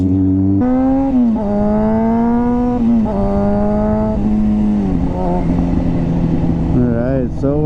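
A motorcycle engine runs hard while the rider speeds through a school zone, revving loud and close with pitch rising and dropping through gear changes. The engine drones steadily and continuously throughout.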